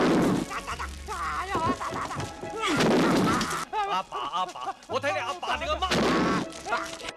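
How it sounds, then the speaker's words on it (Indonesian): A large explosion inside a building in an action film comes as several heavy, booming blasts separated by short gaps, with shouting voices between them. "Terjadi ledakan yang sangat besar di dalam gedung alat peledak itu"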